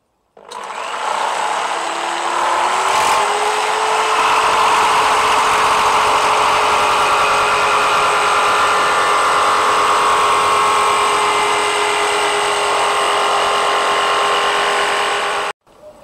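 Power saw blade cutting a thin plastic secondary double glazing sheet for a Nauticus 27 boat, a loud steady high whine that spins up quickly and holds with a faint buzzing edge, then stops abruptly.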